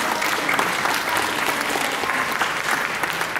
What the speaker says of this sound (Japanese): リリーさんにもう一度大きな拍手をお願いします